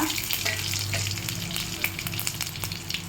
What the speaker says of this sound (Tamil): 2 கருவேப்பிலை, தாளிச்சு